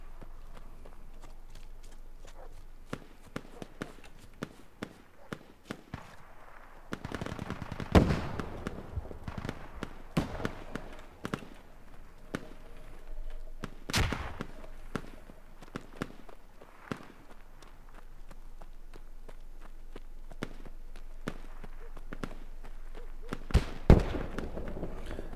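Gunfire in the military shooter game Squad: scattered sharp cracks and pops, some distant and a few louder close shots, in an irregular rhythm against low background rumble.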